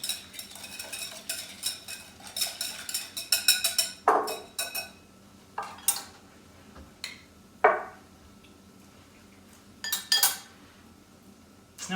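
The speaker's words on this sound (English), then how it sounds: "I'm just going to whisk these together, give them a taste" Whisking four salad-dressing ingredients in a bowl gives bursts of quick metallic clinks and scraping, loud and close, broken by short pauses.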